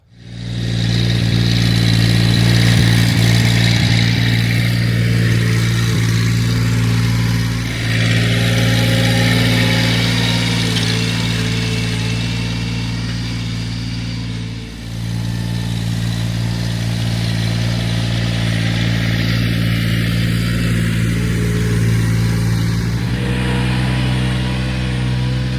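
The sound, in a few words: tractor engine running while unhooking field cultivator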